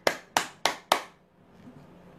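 Hands clap four times in an even, quick rhythm, each clap sharp and close, then the sound falls into near quiet.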